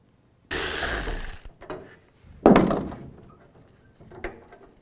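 A hand ratchet turns a T50 Torx socket to back out tailgate hinge screws on a 2007-2013 Chevy Silverado 1500, giving two sharp close bursts of clicking followed by a shorter, softer one, with no voices.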